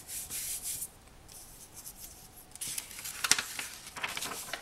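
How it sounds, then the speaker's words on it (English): Polymer clay layer being burnished into place by hand: soft, close rubbing and scraping strokes, faint and uneven, with a few slightly louder swipes near the end. "Burnish it into place so that it's stuck on well."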